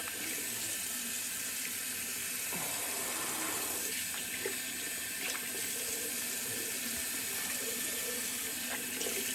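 Water runs steadily from a tap into a sink, a continuous splashing hiss that stays close and even throughout.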